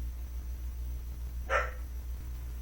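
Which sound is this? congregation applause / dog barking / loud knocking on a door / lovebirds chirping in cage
dog barking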